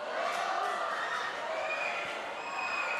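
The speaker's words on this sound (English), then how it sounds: "The crowd just roaring for that possession" A stadium crowd roars at a Philippines–Italy friendship football match, a loud sustained wash of cheering and shouting voices that holds steady across the whole stretch.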